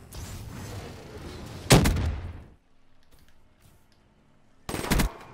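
Hip-fired automatic gunfire in Black Ops 3 comes as a loud sustained burst that cuts off, followed by quiet, then another short, sharp burst near the end.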